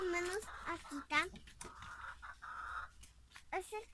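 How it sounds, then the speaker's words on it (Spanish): Chickens cluck and squawk at close range on a rural family farm, with several overlapping calls and a brief crow-like cry, while a person talks nearby. "Y aquí hay gallinas, miren."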